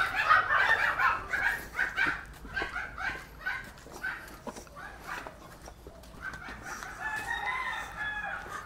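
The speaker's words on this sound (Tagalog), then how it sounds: "Doon muna tayo sa manok." Chickens and roosters crow and cluck loudly and close by on a farm, with a dog barking in between and some faint talk in the background.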